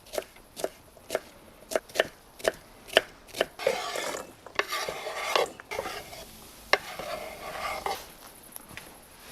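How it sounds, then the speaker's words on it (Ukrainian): A knife dices bell pepper into medium cubes on a board, crisp evenly spaced chops in a steady rhythm that turn quicker and busier later, with soft kitchen clatter. "тим часом нарізаю перчик"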